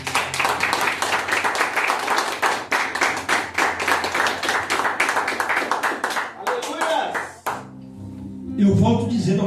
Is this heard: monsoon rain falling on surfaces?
no